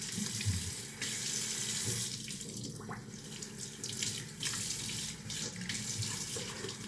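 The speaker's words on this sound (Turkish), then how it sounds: "Evet yüzümü yıkıyorum." Tap water runs steadily into a sink while a face is washed after a straight-razor shave, with close splashing and rubbing over the continuous flow and no talking.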